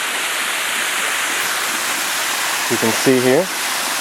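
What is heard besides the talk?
waterfall at Jones Gap Falls near a campsite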